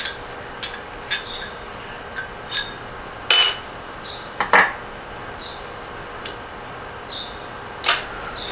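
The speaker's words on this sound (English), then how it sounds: "So we'll take the old nasty bearings out." Old bearings come out of a Porsche 912 engine's crankshaft assembly with scattered light metallic clicks and clinks, sporadic and close, over a quiet workshop background hum.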